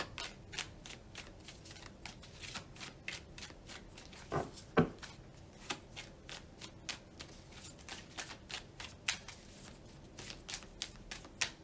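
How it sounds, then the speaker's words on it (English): A deck of tarot cards is shuffled by hand in a quiet room, with a rapid series of soft riffling bursts and sharper card snaps repeating in an irregular rhythm, close and fairly faint. "keep shuffling, keep shuffling, keep shuffling"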